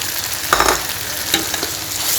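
Mutton and sawtooth coriander stir-fried in a hot pan for fried rice: a steady close sizzle with a few sharper scraping bursts as the spatula turns the meat, and no talking.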